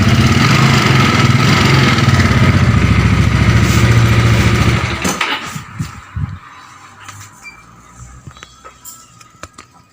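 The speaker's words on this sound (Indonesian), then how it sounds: "kalian dengarkan pada bagian mesinnya apakah mengalami kerusakan parah atau tidak" A Yamaha Mio scooter engine with a white-smoke problem runs loud and close for about five seconds with a steady mid-pitched idle, then cuts off, leaving scattered faint clicks and knocks.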